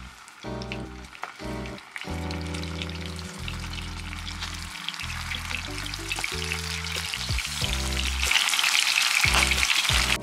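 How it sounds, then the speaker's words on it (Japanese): Marinated chicken, spiced with a curry-like seasoning, lands in hot oil in a pan to crisp its underside and sizzles loudly and steadily, the spattering growing brighter and more intense toward the end, with no talking. "まず裏側をカリッと焼きます。"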